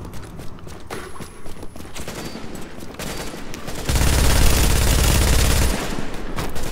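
A video-game gun with a very high rate of fire sends out a dense, rapid burst of shots that swells loud for a couple of seconds over busy game noise, with no one talking.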